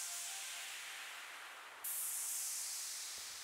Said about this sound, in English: this is just a white noise thing that I added